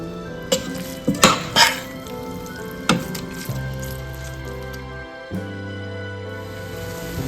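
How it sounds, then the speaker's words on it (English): Soya and Chinese potato being stirred in a sizzling pan, with several metallic scrapes and clanks of a spoon against the pan over a continuous frying sizzle. "Don't miss out to stir in between."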